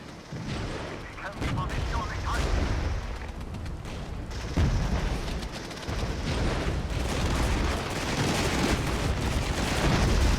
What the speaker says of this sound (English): I'm going to artillery DPICM them. And we're going to arty both these infantry units.